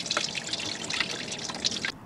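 Water draining out of an Oliver OC-3 tractor fitted with a Nissan diesel: a steady close splashing trickle with quick, irregular drips pattering on top, running continuously before stopping abruptly near the end.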